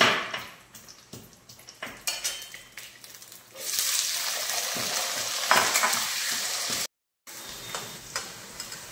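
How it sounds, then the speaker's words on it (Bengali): Potato pieces frying in oil with bay leaves in a home kitchen, a steady loud sizzle that swells midway, punctuated by utensil stirring and scraping clicks, with a brief cut to silence near the end. "আলুটা আমার লাল লাল ভাজা হয়ে গিয়েছে।"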